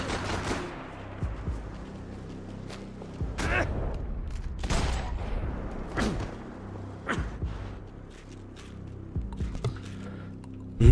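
Gunfire in the video game Max Payne 3: a string of sharp shots at irregular intervals, several loud cracks between lighter bursts, over a low rumbling game ambience with some mechanical creaks.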